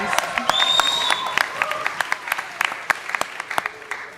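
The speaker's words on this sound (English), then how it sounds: "can we get a bit of a cheer about how that went for you?" Audience at a live grand final event cheers and applauds, a dense wash of clapping with scattered louder claps and some voices mixed in throughout.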